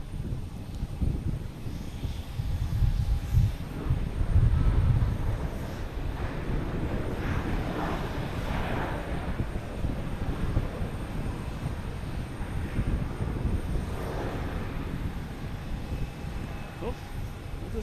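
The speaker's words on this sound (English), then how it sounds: "Oh, they're landing right and left now." Airliners landing at Boston Logan Airport: a distant, rumbling jet roar swells and fades amid wind buffeting the microphone, with people talking over it.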